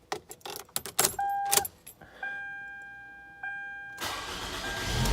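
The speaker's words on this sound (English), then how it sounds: "I'm gonna start the car for just a little bit." A 2002 Toyota Camry starts after an oil change: keys jangle and click, then the engine cranks and catches into a steady idle, with a louder surge of engine noise near the end.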